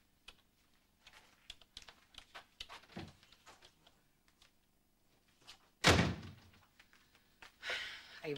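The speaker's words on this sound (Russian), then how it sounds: "не хлопай дверями." A door slams shut with one loud, heavy bang partway through, after a stretch of quiet keyboard-like tapping, followed by a brief rustling noise near the end.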